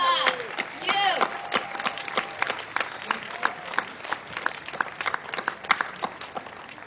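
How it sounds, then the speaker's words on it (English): Scattered clapping from a crowd at an outdoor rally to close the Vermont Yankee nuclear plant, uneven and sparse, with individual claps and some cheers standing out after a voice speaks at the start. "So give yourself a round of applause."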